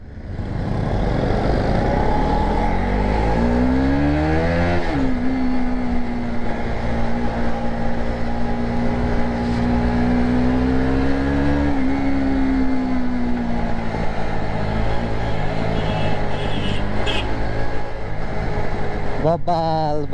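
A motorcycle engine, one of the NS200 bikes on a Kathmandu group ride, drones loudly and steadily with rising and falling revs for about twenty seconds, with voices mixed in.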